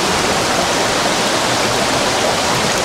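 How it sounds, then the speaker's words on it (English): Waterfall and river at Latourell Falls, a basalt-walled gorge, roaring as a steady, loud, broadband rush of falling and flowing water with no let-up and no voices. "we're down here at the river at Latourell Falls"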